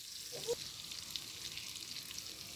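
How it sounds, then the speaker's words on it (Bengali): Ginger-garlic paste, chopped raw tomato and chili powder frying in a pan give off a soft, steady sizzle. It stays faint and even throughout, with a small clink near the start. "এখন মশলাগুলো আমি হালকা কষিয়ে নেব"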